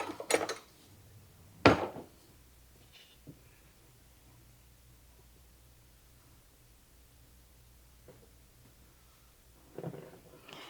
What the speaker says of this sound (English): I've got to get us a spoon to get that bacon out of there with